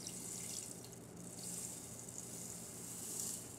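A cup of rice pouring into a pot while cooking salmon and rice, producing a continuous soft hiss like falling rain, fairly faint and steady with slight swells, no talking.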